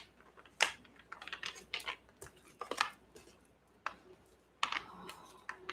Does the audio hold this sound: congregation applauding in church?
no